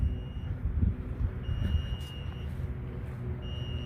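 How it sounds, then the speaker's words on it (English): Electronic alarm beeping inside an abandoned Toys R Us: a high steady tone sounding in repeated long pulses, fairly faint against a low rumbling background. "I hear an alarm going off."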